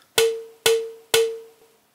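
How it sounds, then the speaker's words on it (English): A 5-deciliter plastic measuring cup is struck three times at an even pace, each hit a sharp bright knock with a short clear ringing tone that decays quickly, heard close and alone. "this is like a plastic measure, 5 deciliters, and it sounds like this"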